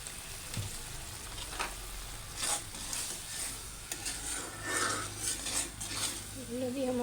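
Turmeric, chopped onion, garlic paste and chili powder fry together in a pan, giving a soft, steady sizzle with occasional clinks and scrapes of a utensil against the metal, fairly quiet and close.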